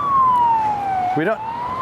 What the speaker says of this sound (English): It seems to just be a car with a siren because we don't see anything.